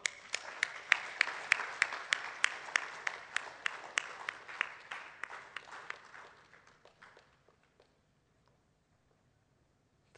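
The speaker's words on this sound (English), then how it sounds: "The applause should go on." An audience applauds steadily, the clapping fading and thinning out over several seconds until only a few scattered claps remain.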